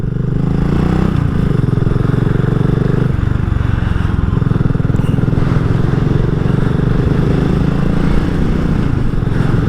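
A 2022 BSA Gold Star single-cylinder motorcycle being ridden, its engine a steady, loud, thumping drone with one brief shift in pitch, plus constant wind rush and no pauses.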